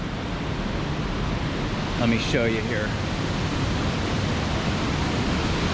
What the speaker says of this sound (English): There's Lanterman Falls